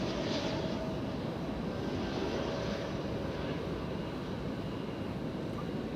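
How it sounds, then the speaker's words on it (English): An airliner on Flight 633 from Phoenix touching down at DFW Airport at night: steady, broad, loud engine and wind roar with no distinct peaks, continuous throughout. "Flight 633 from Phoenix is just touching down there"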